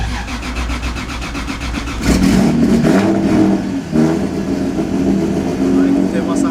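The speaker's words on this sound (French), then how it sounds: "Ça, c'est la pompe qui démarre, elle fait un bruit de fou." A pump whirs up inside a Toyota Supra with a loud, rising hum and buzz over an engine rumble, close and sustained, while a voice talks over it.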